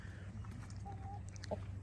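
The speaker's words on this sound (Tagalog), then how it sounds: "Nandito yung mga manok natin." Faint chickens cluck a few times over a low steady hum, brief soft calls scattered across a short moment.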